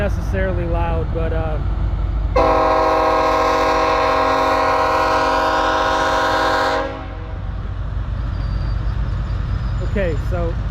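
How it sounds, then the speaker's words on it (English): Kansas City Southern railroad weed control unit train rolling past, a loud chordal train horn blast lasting several seconds over steady rumbling wheel and engine noise, with a voice heard briefly at the start and end. "this is the weed control unit. If you ever wondered how they keep the weeds down, this is it"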